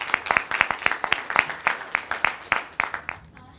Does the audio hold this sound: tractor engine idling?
no